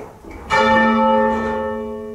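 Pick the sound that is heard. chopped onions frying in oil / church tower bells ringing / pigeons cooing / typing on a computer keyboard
church tower bells ringing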